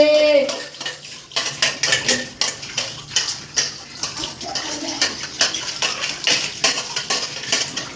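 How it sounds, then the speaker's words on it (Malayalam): Dishes being washed by hand: a steady run of clinking cutlery, plates and pans knocking together close by, with irregular rhythmic clatter and splashing water throughout, no talking. "മീൻകുട്ടി പാത്രം കഴുകുന്ന കണ്ടോ"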